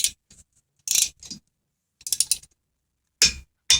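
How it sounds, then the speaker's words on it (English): A torque wrench tightens front brake caliper bolts to 25 foot-pounds on a 2008 Toyota Sienna, with several short ratcheting bursts near and fairly quiet, broken by brief pauses. "get out your torque wrench, 25 foot-pounds, torque them down"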